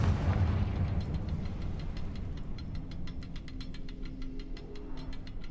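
Confringo, a fire-blasting spell in the Hogwarts Legacy video game, sounds as a burst at the start settling into a low rumble, followed by a quick run of sharp ticking crackles and a steady hum.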